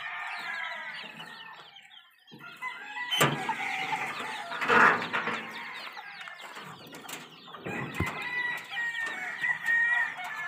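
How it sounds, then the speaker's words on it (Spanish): A dense, continuous chorus of many chicks cheeping in a poultry breeding pen, with adult fowl clucking and an occasional crow mixed in, close and fairly loud throughout, no talking. "Aquí tenemos, miren, todos esos pollitos."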